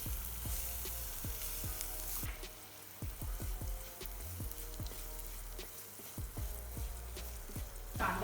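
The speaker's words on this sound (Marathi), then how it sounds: "आता आपलं तेल तापलं आहे. आता आपण कांदा टाकून घेऊया." Onion added to hot oil in a kadhai for a white prawn bhaji spits and crackles in a burst of sharp pops over a steady sizzle, fairly faint and with no one speaking.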